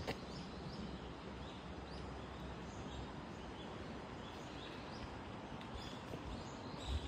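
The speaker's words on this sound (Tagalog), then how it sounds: "Ang maririnig mo yung agos at ibon." A river flows steadily with its water rushing in a constant wash, while faint birdsong chirps now and then above it, with no voices heard.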